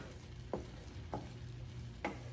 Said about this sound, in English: I'm gonna put my onions in. And I'm gonna just stir that up real good. Saute that up nice and good.